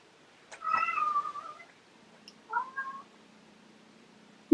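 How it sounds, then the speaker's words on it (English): A house cat gives two soft, fairly faint meows a second or so apart, against a quiet indoor background. "And my cat is here."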